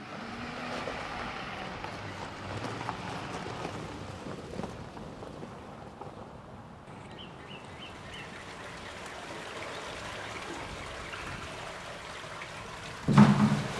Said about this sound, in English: you can see and hear that the water is being brought in by a piping system that comes from a mine discharge just up the road